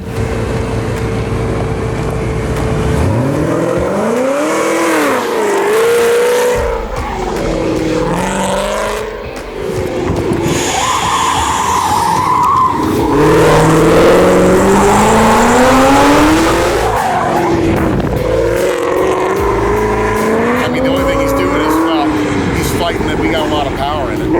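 A race car driven around a track at a Las Vegas event, its engine revving and droning steadily with rising and falling pitch as it accelerates, with people talking over parts of it.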